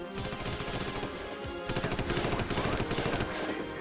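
Gunfire in the combat game Noobs in Combat, made up of dense continuous machine-gun fire and overlapping rapid shots, loud and sustained with no breaks.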